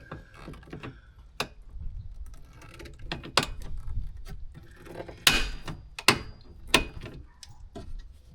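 Rivets are fitted into a golf cart seat, producing scattered sharp clicks and taps close by, with quiet handling noise between them.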